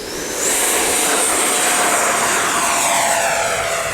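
An 80mm thrust-vectored RC MiG-29 jet roars loudly and continuously on takeoff, a harsh turbine rush with a rising whine as it spools up, close and steady throughout.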